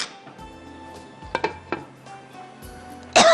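Metal lid set onto a cooking pot of Lahori paaye, a few light metallic clinks and taps followed by a brighter ringing clank at the end, close and otherwise quiet.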